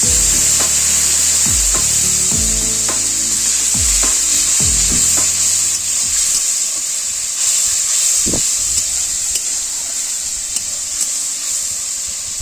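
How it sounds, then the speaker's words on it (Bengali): Spice paste frying in a pan gives a steady loud sizzle, while a spatula stirs it in repeated scraping strokes for several seconds before the stirring stops and only the hiss continues. "এবারে একটু নেড়ে নিচ্ছি। মশলাটা যাতে পুড়ে না যায়"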